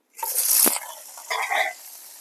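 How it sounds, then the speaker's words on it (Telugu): Onions, green chillies and red chillies dropped into hot oil for chicken biryani, bursting into a sharp sizzle that fades, then flares again briefly as they are stirred, close and without talk. "బిర్యానీ సామాలు వేస్తాం ఉల్లిపాయలు ఎనిమిరపకాయలు పచ్చిమిర్చి వేసేద్దాం"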